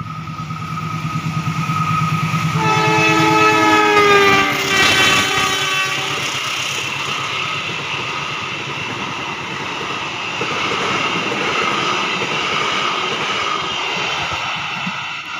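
A Sancaka passenger train passes close by from the east, its loud horn blaring in rising tones before the heavy rumble and roar of the carriages sweep past and trail off into a steady wind-blown clatter.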